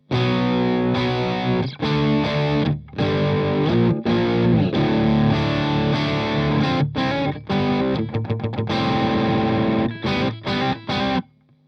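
A heavily distorted electric guitar riffs through an Orange amplifier driven hard, chords and palm-muted chugs cutting in and out with brief gaps, loud and close.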